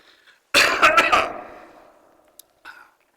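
A single loud, close cough burst that trails off, followed by a faint click and a brief throat sound.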